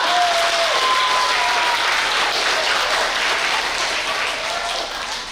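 Students applaud at a school perfect attendance assembly, a loud, dense burst of crowd clapping filling the room, sustained for several seconds before tapering slightly, with a faint tone or voice briefly audible underneath.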